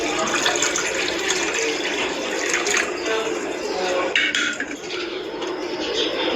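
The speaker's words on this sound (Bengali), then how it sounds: "এবার পানিটা এমনভাবে দেব যেন পুডিংয়ের পাত্র অর্ধেকটা ডুবে থাকে" Water poured into a pot around a bowl of egg pudding set on a stand, a steady splashing fill with occasional metallic clinks of utensils, close and continuous.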